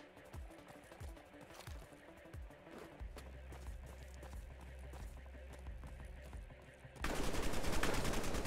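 AK rifle gunfire in the survival video game Decaying Winter, rapid in-game shots and a loud automatic burst near the end, mixed with running footsteps and other game sounds under people talking.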